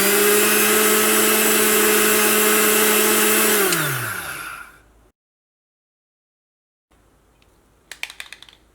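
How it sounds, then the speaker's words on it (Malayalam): A mixer grinder whirs loudly and steadily as it grinds semolina (rava), then its motor winds down to a stop. After a few seconds of silence, a few sharp clicks and rattles follow as the jar is handled. "ഈ റവ നമുക്ക് ഫസ്റ്റ് ഒന്ന് പൊടിച്ചിട്ടെടുക്കുക. ഒന്ന് നന്നായിട്ടൊന്ന് കറക്കിയാൽ മതി,"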